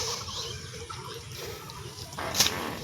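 Water drains through channels dug in a flooded papaya field after heavy rain, a steady close trickling and gurgling flow with a brief louder splash near the end.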